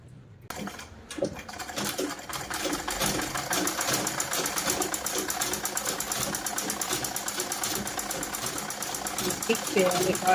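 A sewing machine runs steadily and loudly up close, stitching a second reinforcing line along a simple blouse seam, a continuous rapid mechanical whir after a brief quiet start, with someone talking over it.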